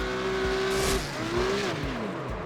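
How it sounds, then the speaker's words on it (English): A Porsche 911 GT3 Cup race car in iRacing brakes into the pits, its engine dropping from a loud steady whine into a crackling series of falling downshift blips with sharp pops, fairly close and without any talk. "Listen to the engine of this guy, Pirate Guy."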